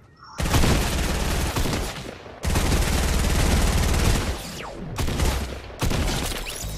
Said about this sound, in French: Il y a un fusil de chasse.